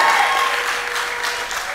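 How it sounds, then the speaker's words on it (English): Crowd applauding at a UNC political meeting in Caroni East, a dense, steady wash of clapping that holds loud throughout without a break. "Let's give it up for LHT"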